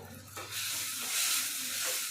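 Curry leaves frying in hot oil for a fenugreek curry give a steady close sizzle and hiss, which swells a little midway and carries on without a break. No voices are heard.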